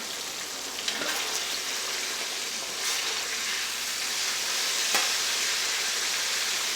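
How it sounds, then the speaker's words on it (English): Steaks brown in a pan with a steady, loud sizzle and spatter, broken by a couple of faint pops and scrapes. "these steaks are browning very nicely"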